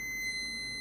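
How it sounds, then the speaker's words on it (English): A faint, steady high electronic beep tone plays back in a quiet bedroom, one continuous sustained note over low background hiss, no voices. "I couldn't figure out what that beeping noise was at the time"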